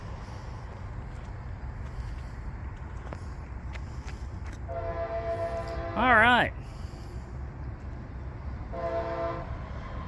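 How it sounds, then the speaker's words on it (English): CSX intermodal freight train passing with a low rolling rumble, while a locomotive horn sounds several tones, one short blast loud and wavering, another fainter; a person briefly speaks. "CSX intermodal coming through now"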